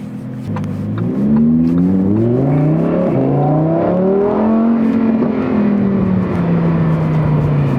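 Lamborghini Huracan Sterrato engine revving hard and pulling up through quick gearbox shifts, a loud, close, rising and falling exhaust roar with no talk over it.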